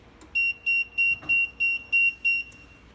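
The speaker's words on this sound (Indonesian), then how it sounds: "Ini sensor F, ini terjadi alarm jika tidak terpasang dengan baik, seperti ini contohnya." A Tosan 111 baby incubator sounds its sensor-failure alarm: seven evenly spaced high electronic beeps in a steady pulsing rhythm, loud and close, with no talking.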